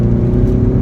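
A 2014 Ford Focus ST3 engine blipped near 3,000 RPM and released, with a low, steady engine whir and throbbing rumble throughout, close and loud; the diverter valve flutter is not clearly separable.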